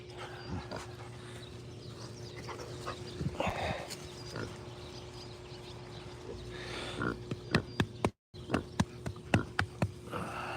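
Pigs on a farm grunting and snorting in a pen, with scattered close, sharp knocks and clatters toward the end over a steady background hum.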